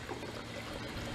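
Magnum Motorcycle Juice wash concentrate poured into a bottle for a pre-soak mix, a steady close liquid stream trickling and filling without a break.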